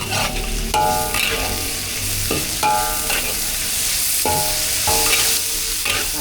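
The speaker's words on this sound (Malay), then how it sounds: "Goreng dulu sikit." Loud, continuous sizzling of food frying in hot oil, with occasional scraping and clinking of a utensil stirring the pan.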